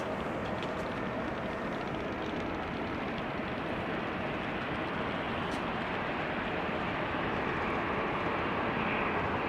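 A KM Malta airliner at Amsterdam Schiphol gives a steady, broad engine roar that holds evenly and moderately far off throughout, with no talk.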